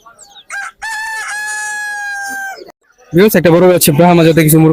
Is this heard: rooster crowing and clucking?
yes